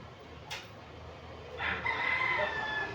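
A six-month-old bulik rooster with yellow legs gives a single crow, a short rising call that is fairly close and moderately loud over quiet morning background.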